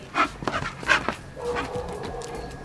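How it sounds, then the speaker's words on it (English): A dog whimpers and yips in a few short bursts, then gives a longer whining vocalization, close by with no talking. "You're a cool listening dog."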